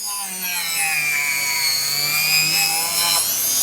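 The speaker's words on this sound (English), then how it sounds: "This is what I'm using to file the under of this insole, and it's filing it just like you're in your filing machine" A die grinder fitted with sandpaper files the underside of a shoe insole, giving a continuous high-pitched motor whine whose pitch drifts slightly as the tool meets the material, with no talking over it.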